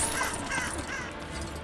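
A raven caws in Lego Lord of the Rings, a few harsh calls sounding over a steady layer of game music and ambience.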